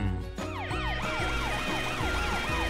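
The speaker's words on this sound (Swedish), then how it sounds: "Matt, Frank, sätt igång era blåljus och sirener så att alla håller sig på avstånd" Emergency vehicle sirens in a children's cartoon about a demolition crane, several wailing tones rising and falling together in a steady loop, loud and continuous over a low engine rumble.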